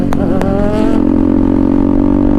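A motorcycle engine revs hard as the rider pulls a wheelie, rising briefly and then holding a loud, steady, close drone throughout.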